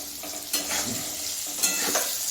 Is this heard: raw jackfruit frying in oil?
yes